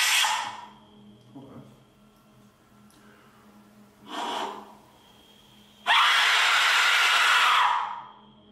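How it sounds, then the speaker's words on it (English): A few faint breathy tones, then a sudden loud, harsh shrieking Aztec death whistle blast lasting a couple of seconds before cutting off. "now it's time for a scream with an Aztec whistle"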